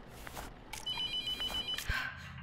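A telephone in the game The Mortuary Assistant rings with a short electronic trill, quiet and somewhat distant, amid faint footsteps and low ambient noise.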